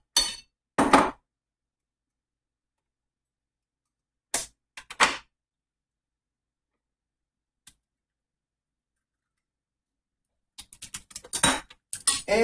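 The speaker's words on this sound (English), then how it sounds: "take one more egg. I'm going to break it in the plate." An egg is cracked into a plate, heard as a few sharp isolated clinks and taps separated by long silences, with a burst of quicker clicking and tapping near the end.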